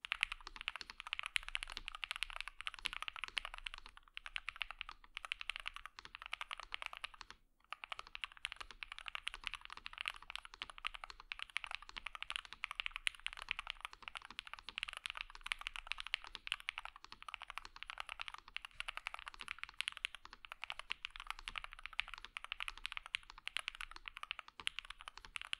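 Rapid, continuous typing on a budget Hall Effect gaming keyboard, close and clear, with steady clicking keystrokes and a brief pause partway through.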